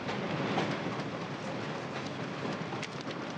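Train running on rails, a steady rushing rattle with faint clicks throughout, moderately loud and continuous with no voices.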